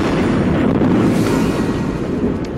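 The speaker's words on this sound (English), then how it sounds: "we just had a huge explosion" A deep, rumbling roar from a large gas explosion of a train fills the whole clip, loud and sustained, with wind buffeting the microphone and no voices.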